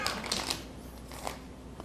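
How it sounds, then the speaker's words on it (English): A deck of playing cards shuffled at a table during a magic trick, giving a soft, brief riffling flutter with a couple of crisp bursts, fairly quiet and heard without talk. "shuffle those cards over and over and over as much as you like"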